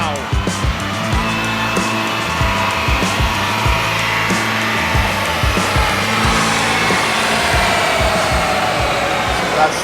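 Toyota Supra with a B58 engine running hard on a dyno, loud and close, with a rough, pulsing exhaust drone and a rising whine, and people talking over it.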